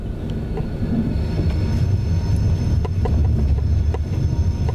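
A train pulls into Crewe station with a steady low rumble and rolling wagon noise throughout, fairly loud and close, with some wind buffeting and faint rattles on top.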